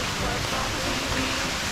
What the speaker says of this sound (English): Lovely little waterfall for hole number 7.